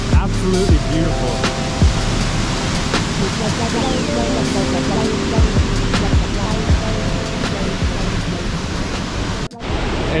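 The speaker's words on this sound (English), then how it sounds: "I don't know if you can hear me over the sound of the roaring waterfall" A roaring waterfall at Cloudland Canyon in Georgia thunders as a steady, loud broadband rush that fills the whole clip, with faint voices buried beneath it and a brief dip near the end.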